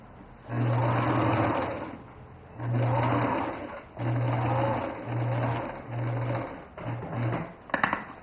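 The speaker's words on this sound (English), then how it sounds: "And do another stitch straight down the same line as I did before." A sewing machine stitches fabric, running in six or seven separate bursts of steady whirring, each about a second long with short pauses between them. The bursts get shorter toward the end, and the machine sounds close.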